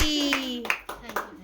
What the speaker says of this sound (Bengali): বাহ, হাততালি হাততালি